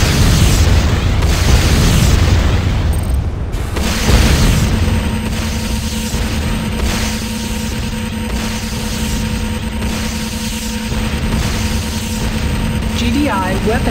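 A destroyed enemy structure explodes in Command & Conquer: Renegade, producing a loud booming blast that rolls into a sustained, heavy rumble with a steady droning hum underneath, filling the scene throughout.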